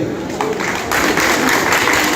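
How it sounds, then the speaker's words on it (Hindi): An audience at an Onam celebration hosted by a Kerala community in Navi Mumbai applauds the singers, a dense, steady wash of clapping that swells partway through and stays loud. "इनके लिए तालियां बजाओ"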